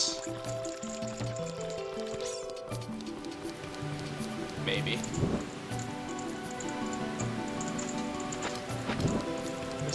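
A waterfall in Zelda Ocarina of Time, a steady rushing wash of water under game music tones and effects, with a player speaking briefly.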